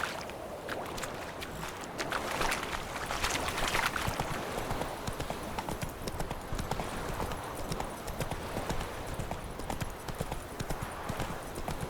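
Roach the horse trotting in Witcher 3, a dense continuous clip-clop of hooves on the ground, close and steady throughout, with faint ambient background and no talk.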